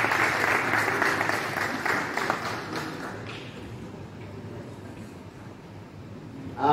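An audience at a French-language Christian gathering breaks into loud, sustained applause acclaiming the Lord, a dense wash of clapping that thins out toward the end.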